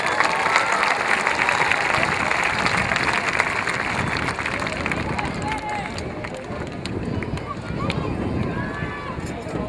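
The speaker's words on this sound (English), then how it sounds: "let's give another round of applause to Mr." A graduation ceremony crowd gives a sustained round of applause for an honoree of the class of 2013, with thick overlapping clapping mixed with crowd noise and some scattered voices throughout.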